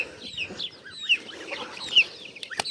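Chickens and chicks cluck and chirp softly in short, scattered calls, close by, with occasional sharp peeps and light rustling.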